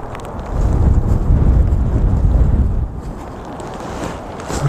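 Wind buffets an outdoor camera microphone at an ice fishing world championship in Finland, producing a loud low rumbling roar for about two seconds that then eases to a softer steady hiss.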